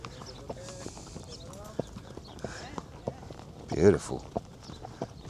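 Hooves clip-clop at a steady walking pace during a horse riding tour near Agadir, Morocco, the light knocks close by and under a rider's occasional speech, with a brief louder exclamation.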